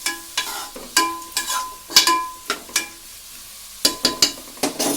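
Bottle gourd mixture with a pinch of turmeric being stir-fried in a pan, with a run of sharp spatula scrapes and clinks over a soft steady sizzle, close and fairly loud, no talking.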